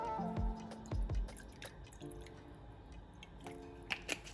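Nettle extract being poured into bird drinkers for goldfinches and canaries, heard as a few wet drips and splashy liquid sounds in short bursts, fairly quiet and close, with no talking.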